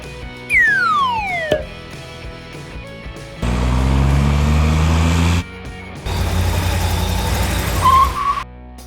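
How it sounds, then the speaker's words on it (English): A cartoon monster garbage truck from a children's vehicle game: after a descending whistle, a loud heavy engine rumbles for about two seconds, pauses, then roars again with rising revs and a whine before cutting off. "Find the monster garbage truck."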